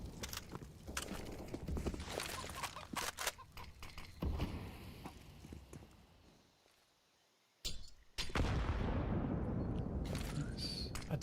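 A grenade goes off in a Counter-Strike match at a Perfect World Asia League esports event, a sudden loud burst near the end after a quieter stretch, surrounded by busy in-game footsteps and gunfire clatter.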